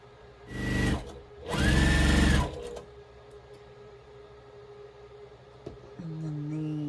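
Sewing machine stitching quilt block pieces for a pressed flowers quilt, running in two short bursts, the second longer, followed by quiet room sound and a faint hum.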